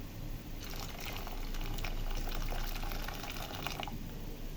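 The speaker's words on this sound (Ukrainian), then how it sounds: "Далі я заливаю рис кип'ятком" Boiling water from a kettle poured over rice in a home kitchen, a soft continuous splashing pour lasting about three seconds under a steady background hiss, with no talking.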